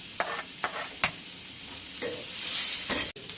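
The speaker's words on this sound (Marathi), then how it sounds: "आता कोथिंबीर टाकून घेऊयात आपण आता." Coriander is tossed into a sizzling masala in a pan for a spicy soybean kofta curry, with a steady frying hiss and several sharp scraping stir strokes spaced across the moment, close and clear with no talking.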